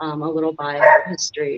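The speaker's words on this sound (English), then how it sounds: "And that was my dog, sorry." A dog barks and yips in several quick bursts, loud and close, mixed with a voice talking over it.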